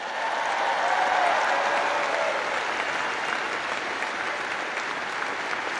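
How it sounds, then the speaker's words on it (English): A large commencement crowd at the University of Alabama claps in sustained, fairly distant applause that holds evenly and fades slightly toward the end, with no talk over it. "let's give a big round of applause to your incredible parents"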